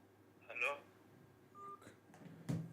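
Phone call being placed, with a few short electronic dialing tones spaced apart over a couple of seconds, fairly faint, amid quiet room noise and some voice.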